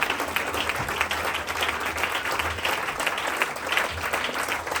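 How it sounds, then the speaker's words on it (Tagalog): A church congregation applauds for Jesus, steady dense clapping filling the room throughout at moderate level, with no speech over it. "Palakas po na palakpak para kay Jesus"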